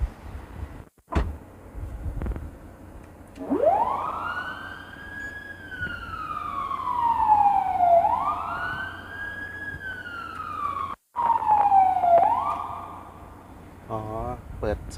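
An ambulance siren cycles through several tones, rising in long wailing sweeps that glide up and fall away, then switching to a quicker warble, loud and close with brief clicks and a voice talking.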